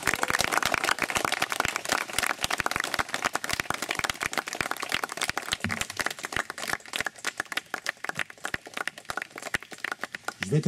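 Wedding guests clap warmly for the couple at a ceremony, with dense, continuous applause from a crowd, loud and close throughout, without any speech over it.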